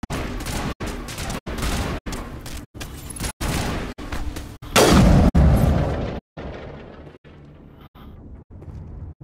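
Rapid rhythmic gunfire from the game Mass Effect, evenly spaced bursts in a steady pulse with a louder explosive blast in the middle, then continuing quieter shots, no talk.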